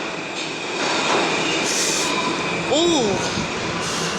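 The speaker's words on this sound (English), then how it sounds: "Seeing the L train depart." An L train departs the Brooklyn-bound track at the 3rd Avenue station on the 14th Street Canarsie line, with a steady rumble, a rising wheel squeal midway and a brief spoken exclamation.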